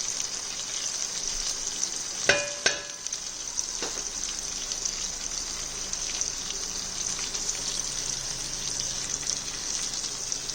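Cumin powder sizzling in hot oil for sweet mango pulusu, a steady, fairly quiet frying hiss with a couple of sharp clinks from a utensil early on.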